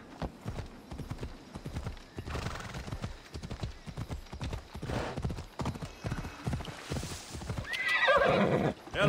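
Rhythmic hoofbeats pound steadily at a gallop in Assassin's Creed Odyssey, close and clear, ending with a horse's loud whinny near the end.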